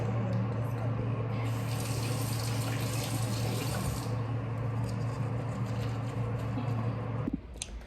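Steady running shower water spraying at home during a night routine, a continuous close broadband rush that cuts off abruptly near the end.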